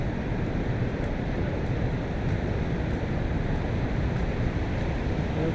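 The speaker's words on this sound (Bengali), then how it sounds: "নায়াগ্রা ফলসের পানি শব্দ শোনা যাচ্ছে।" Falling water at Niagara Falls in Canada, a dense continuous roar heard at steady loudness throughout, with no voices.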